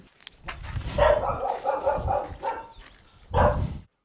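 Several stray dogs bark close by in bursts at an industrial site in Kherson, a run of overlapping yips and barks followed by a pause and another loud cluster near the end.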